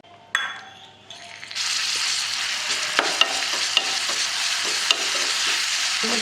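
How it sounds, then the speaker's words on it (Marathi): Ground garlic and chili hit a little hot oil and are sautéed with a loud, steady sizzle and stirring scrapes, after a few quieter clinks and a short burst at the start. "हे लसूण आणि मिरच्या वाटून घेतलेले आहे, ते आपण थोड्याशा तेलावर परतून घेऊया"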